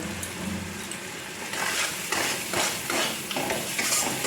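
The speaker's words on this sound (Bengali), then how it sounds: "এবার একটু ভালো করে কষিয়ে নেব" Chopped tomato and chili powder are stir-fried in a pan for a katla fish and green mango curry, heard as rhythmic bursts of scraping and stirring over a low sizzle.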